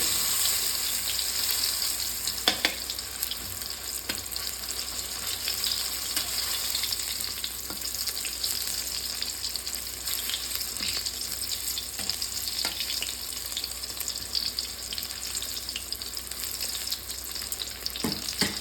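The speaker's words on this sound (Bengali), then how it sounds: "তো এইভাবে করে সকল মোচাগুলো ভাজা করে নেব।" Chopped banana flower pieces fry in a pan with a constant, moderately quiet sizzle, broken by occasional light clicks of stirring.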